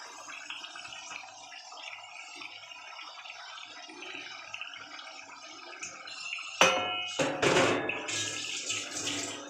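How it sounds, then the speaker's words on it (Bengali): Chicken leg pieces go into hot spiced masala in a kadai. After a quiet stretch of low cooking noise, a sudden loud sizzle bursts up and keeps hissing and spluttering near the pan, with no talking. "এবার আমি এক এক করে লেগ পিসগুলোকে দিয়ে দিলাম। এটা বড় ফ্রাই প্যানে রান্না করলে ভালো হতো, কিন্তু আমি কড়াইতে করছি।"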